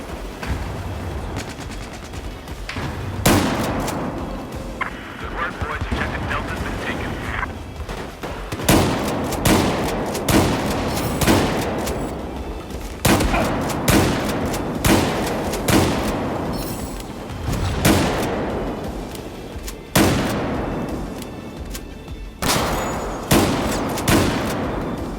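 Shotgun blasts from the video game Battlefield 4 ring out in a series of loud, sharp reports spaced a second or two apart, with pump and reload clatter and background battle noise between shots.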